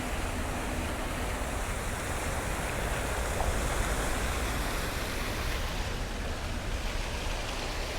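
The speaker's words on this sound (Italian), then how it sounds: "mi piace questa passerella con l'acqua e la fontana" Water fountain splashing by a walkway at Lake Garda, a steady, loud broadband hiss of falling water, continuous and even from start to end with no voices.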